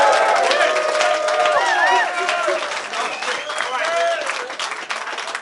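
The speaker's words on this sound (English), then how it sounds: "Everyone make some noise" A full-capacity crowd at a rap battle event cheers and claps loudly, with whoops and shouted voices rising over continuous applause that swells and eases across a few seconds.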